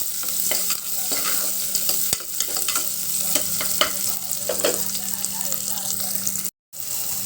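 Onions frying in a pan with a steady, close sizzle throughout, stirring scrapes over it and a brief cut near the end.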